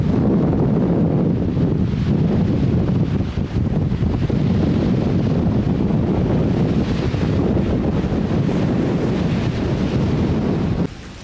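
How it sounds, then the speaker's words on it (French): Strong wind blows outdoors and buffets the microphone, a loud continuous roaring rumble with gusty fluctuations lasting throughout, no talking. "Il y a beaucoup de vent, mais beaucoup de vent ici."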